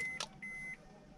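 Two short high electronic warning beeps from a Citroen Xantia Exclusive Estate, the second longer, faint against a quiet cabin background with no talking.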